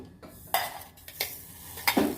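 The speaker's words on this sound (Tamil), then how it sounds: "வாங்க இதை இப்போ நம்ம வந்து மிக்சி ஜாருக்கு போட்டுக்கலாம்" Roasted spices scooped from a pan into a mixer jar, three sharp metallic scrapes and clinks of a spoon against metal, close and distinct with quiet gaps between.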